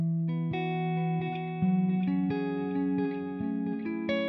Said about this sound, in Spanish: Sin reverb, sonaría de la siguiente manera.